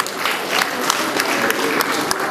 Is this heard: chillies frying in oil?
no